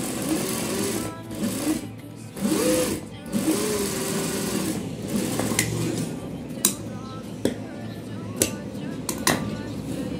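A sewing machine stitching a round collar neckline, running in steady whirring bursts with short pauses and light clicks, while someone speaks Hindi over it.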